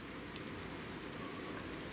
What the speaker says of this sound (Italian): Senti un po' le goccioline d'acqua.